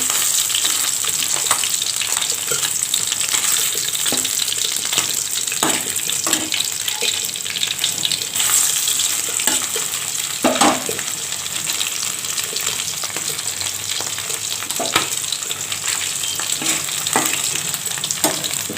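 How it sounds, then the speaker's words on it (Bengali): Fish frying in oil in a covered pan during Bengali home cooking, a steady loud sizzle and crackle with occasional louder pops and scraping, continuous for the whole stretch with no talking. "দেখি মাছটা এখন এক পিঠ ভাজা হয়ে গেছে"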